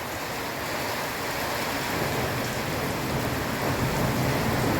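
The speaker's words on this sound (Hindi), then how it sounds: "लेकिन बहुत तेज आंधी तूफान के साथ बारिश हो रही है।" Heavy rain pours steadily during an evening thunderstorm with strong wind, a dense continuous roar hammering surfaces at close range, with low rumbling underneath and no voices.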